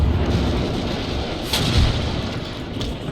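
Naval cannons fire cannonballs in the strategy game Empire: Total War during a storm at sea. It is a dense, loud roll of booming shots over about three seconds, with a sharper blast near the middle.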